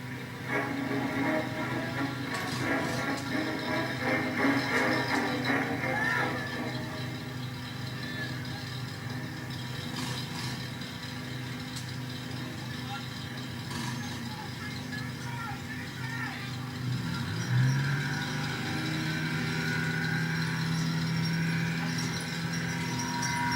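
Engine of military vehicle 422 at a Berkeley Castle military vehicle show during a troop deployment display, a steady rumble with a rising revving tone near the end and a commentator speaking over it.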